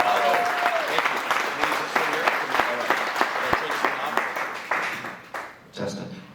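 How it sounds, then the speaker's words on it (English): An audience applauds a speaker with steady, dense clapping that fills the room and then fades out at the end. "I'd like to give a big round of applause to Mr."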